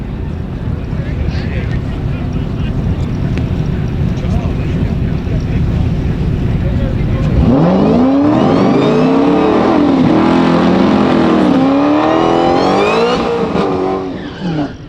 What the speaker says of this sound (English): Doesn't that supercharger sound so cool?